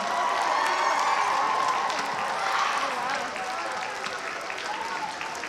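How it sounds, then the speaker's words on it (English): A crowd applauds at a convention cosplay masquerade, steady dense clapping that tapers slightly toward the end, with voices mixed in. "let's give them a round of applause"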